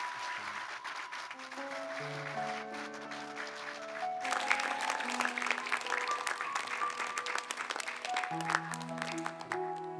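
A Korean Presbyterian congregation applauds at a church officer's retirement plaque presentation. Sustained organ-like chords play throughout, and a dense wash of clapping joins midway and carries on under the music.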